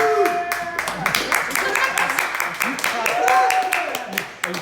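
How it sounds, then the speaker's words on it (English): An audience at a standup comedy set in a small venue claps in a quick, dense burst of many hands, sustained for several seconds before tapering off, with a voice speaking over the applause. "Are you clapping"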